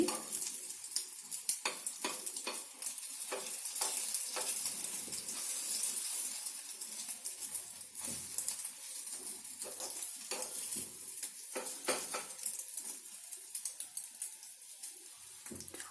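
Karandi omelette, an egg omelette frying in a pan over medium heat, with a quiet crackling sizzle and frequent light ladle taps and scrapes against the metal, close and continuous, no talking.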